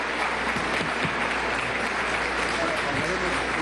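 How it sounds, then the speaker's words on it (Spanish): A crowd at an international forum on alternative media gives a loud, sustained round of applause, dense and even throughout and heard without any talk over it. "Un aplauso inmenso para esta gente."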